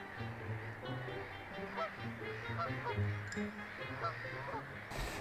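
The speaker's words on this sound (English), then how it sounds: "Had a couple of Canada geese displaying" A group of Canada geese honk repeatedly, their calls overlapping in an irregular chorus at moderate distance over faint background noise.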